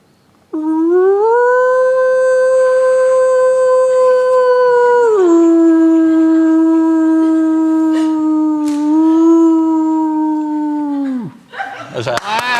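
A person imitates a wolf's defensive territorial howl through cupped hands, one long sustained tonal howl that dips slightly in pitch partway through, then falls away, followed by brief rustling.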